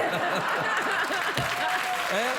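Studio audience applause on a late-night talk show, a steady wash of clapping with a voice speaking over it and light chuckles mixed in.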